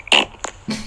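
A short fart noise plays back from a recorded voice message, a quick burst followed by a second, buzzier blurt, loud and close in under a second.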